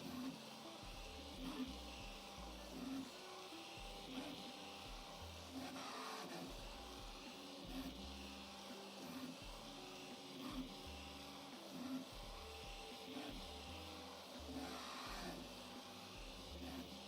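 A Prusa Mini+ 3D printer fitted with a REVO hotend prints at high speed, its stepper motors whirring and buzzing in rapid, rhythmic bursts with regular tonal chirps, steady and close for the whole stretch with no talking.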